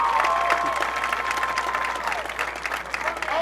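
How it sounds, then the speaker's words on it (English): A crowd in a high school gym at a boys basketball game claps steadily for a few seconds, mixed with some murmuring and a few cheers. "Let's applaud that."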